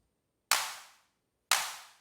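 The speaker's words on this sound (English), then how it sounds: "Kick drum, synth 1." Two sharp, bright synthesized hits from synth 1 of Tone2 Electra 3, spaced a second apart, each with a snappy clap-like attack and quick fading tail, loud and alone with no kick thump evident.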